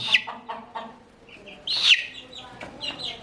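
A young rooster chick, a cockerel, gives a quick run of short, high chirps and clucks, close by and fairly loud, with quieter peeps between the calls.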